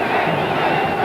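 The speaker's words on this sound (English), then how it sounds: "Crowd really coming to life" Stadium crowd at a 1984 Falcons versus Rams football game roaring to encourage the Rams defense, a loud, sustained, dense cheer with no pauses.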